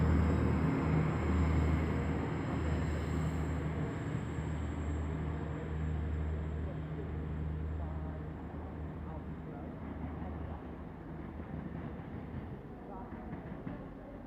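Class 175 diesel multiple unit 175009 pulls out of Chester station on a Cardiff to Holyhead service, a steady low engine and rail rumble that slowly fades as it moves away, with no clear talk over it.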